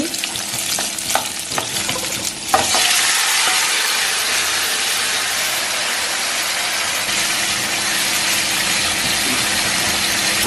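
Onions sautéing in a pan for a Nattu Kozhi chicken fry: a few faint scrapes and clinks at the start, then a loud, steady broadband sizzle that holds evenly through the rest, with no voices.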